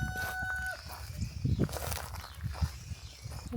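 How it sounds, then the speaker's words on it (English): Chickens on a Zambian village property, with faint clucking and rustling amid outdoor ambience, mixed with low background voices and footsteps nearby. "He loves the chickens."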